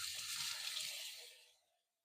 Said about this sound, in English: you add an equal amount at least of water to this pot